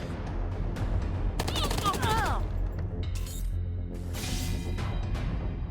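Bursts of rapid gunfire against a turret in the Wasteland 3 video game, loud and continuous over background game sound, with a voice briefly talking over it.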